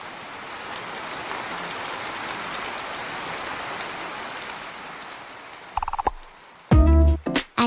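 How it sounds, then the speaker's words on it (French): Steady rain pours down on a surface as a dense, even hiss for several seconds, then cuts off into a few sharp, louder bursts of other sounds near the end. "La pluie."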